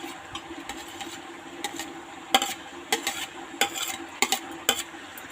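A spoon stirs goat intestine curry in a pan, giving a series of scraping, clattering strokes over a faint sizzle, close and moderately loud.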